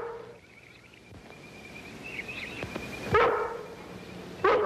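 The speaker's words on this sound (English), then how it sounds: "It's a nice-looking collie." A collie dog gives a couple of short barks at moderate distance over faint background noise, with a long gap between them.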